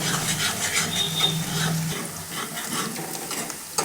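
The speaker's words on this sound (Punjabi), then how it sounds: "ਦੇਖੋ ਪਿਆਜ਼ ਹਲਕੇ ਹਲਕੇ ਜੇ ਭੁੱਜ ਹੋਣ ਲੱਗ ਗਏ ਆ" Onions fry lightly in a pan for a turnip dish, a close, continuous sizzle with soft stirring scrapes and clicks throughout, no one talking.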